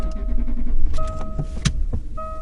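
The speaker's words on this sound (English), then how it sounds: "I added this car, startup sound effect" A car starting up: a mechanical whir and clicks, then steady electronic tones like dashboard chimes, heard close and clean.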